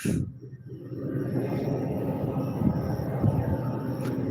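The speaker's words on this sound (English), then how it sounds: "Train about that way." A low, continuous rumble of a train passing at some distance, steady and moderately faint, with no talking.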